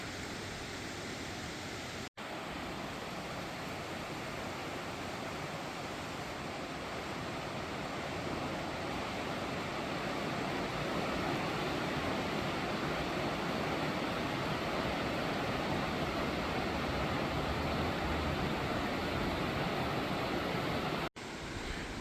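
A creek flows past the ruins of the 1849 New Manchester Mill in a park, its water making a steady, even rushing wash that continues throughout without voices.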